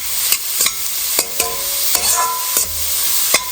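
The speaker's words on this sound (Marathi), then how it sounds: "हे चांगलं परतून घेऊ." Ground vegetable filling for veg momos stir-fried in a hot pan, with a continuous loud sizzle and sharp intermittent scrapes and clacks of a spatula tossing the mixture, close up with no talk.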